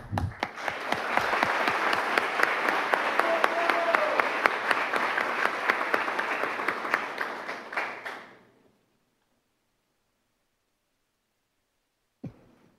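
A crowd at a book launch for Pepe gives sustained, loud applause for about eight seconds, then it cuts off into near silence, broken by a single faint knock near the end.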